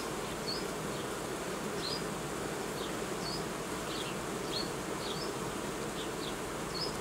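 Honey bees hum in a dense, continuous buzz around hive frames full of pollen during July, a steady close drone with occasional higher individual wingbeats passing by.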